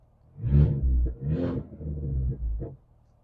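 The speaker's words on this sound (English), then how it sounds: "Do a little pop burbles." A modded 2021 Mercedes-Benz A220 with a catless straight-pipe exhaust revs in a few deep, throaty bursts and settles into low burbles, loud and close with no talking.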